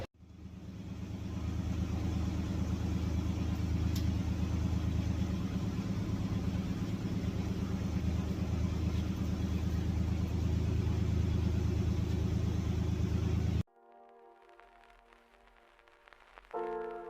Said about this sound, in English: fire up the truck